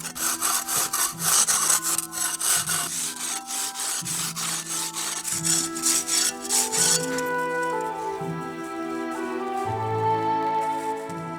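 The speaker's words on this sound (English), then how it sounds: "My logs was covered with ice, so I couldn't use the shock line. I had to scrape it off" Repeated rhythmic scraping strokes rasp across ice-coated logs on a log home, each stroke harsh and close, continuing steadily with an audible scratchy texture.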